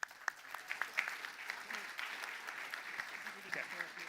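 Audience clapping for a finalist team at a prize announcement event, a quiet, fairly distant patter of hands with scattered sharper claps, steady across the span under a faint murmur.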